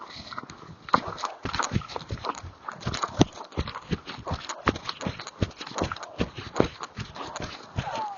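Rhythmic hoofbeats of a horse cantering during a riding lesson, a quick, even three-beat thudding that stays fairly close and continues without pause for several seconds.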